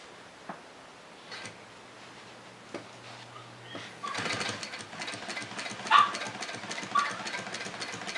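A Cobra Class 4 heavy-duty sewing machine stitching leather: scattered clicks and a low hum at first, then a steady rapid mechanical chatter of the needle running, close and fairly loud, with a few sharper knocks.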